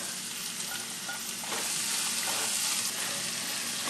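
Onions and tomatoes fry in a pan with a steady, fairly quiet sizzle, stirred now and then, with the crackle growing a little louder partway through.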